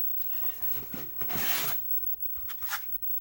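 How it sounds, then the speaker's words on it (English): Styrofoam packaging from a TP-Link VIGI C540 security camera box being handled, giving squeaky rubbing and scraping with a louder rasp in the middle, up close with no speech. "Styrofoam packaging."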